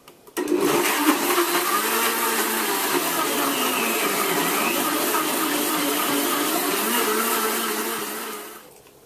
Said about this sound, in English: Now just blend on high for 30 seconds or so